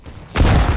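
A single sniper rifle shot in CS:GO, a sudden loud, close crack with a booming tail that cuts in after a quiet moment and rings out for the remainder of the brief moment.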